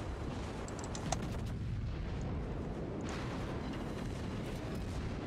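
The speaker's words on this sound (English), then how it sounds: "Torpedo hit me." A torpedo strikes a ship in a naval battle game, heard as a heavy booming impact that merges into a dense, continuous rumble of explosions and gunfire, with a few sharp cracks early on.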